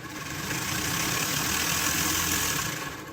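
A homemade single-phase brushless motor running at high RPM gives a steady, dense whirring drone with a rattly, engine-like texture, constant and fairly loud throughout.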